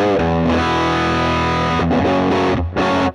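Distorted electric guitar played through the Texas Star amp preset on a Fractal FM9, modeled on the Mesa Boogie Lone Star: loud, sustained dirty chords ringing out, then two short choppy stabs at the end.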